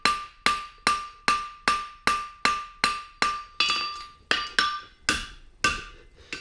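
A hammer strikes a steel bar being forged into a horseshoe and scarfed for a weld. About thirteen ringing metallic blows land close and loud in a steady rhythm, each followed by a brief decay.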